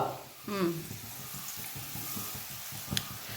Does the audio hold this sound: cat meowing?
no